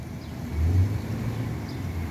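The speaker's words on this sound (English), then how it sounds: "Look at the amount of traffic they have over here." A car passes on a Boston city street, its low engine and tire rumble swelling briefly and fading, set against a steady background of roadway traffic noise with no talking.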